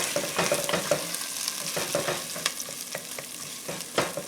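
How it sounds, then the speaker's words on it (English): Tomato paste frying in a beef stew pot while a spoon keeps stirring it, a soft sizzle under repeated close scraping and tapping strokes against the pot, no voices. "We're just going to keep stirring it around."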